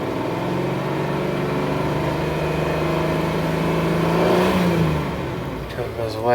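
A 1983 Cadillac Seville's engine runs steadily at close range, then revs up briefly to a louder, higher pitch before easing back down toward idle.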